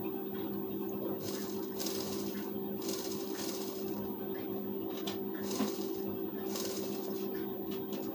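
A sewing machine runs at a fairly quiet level, stitching a blouse neck strip with a steady mechanical hum that carries intermittent brief rattling bursts.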